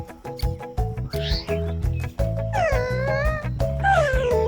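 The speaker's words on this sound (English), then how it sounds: "These little lions look like kittens, but they're called cubs." Young lion cubs mew and squeal in high, wavering cries, several calls overlapping loudly and close over a low rumbling undertone.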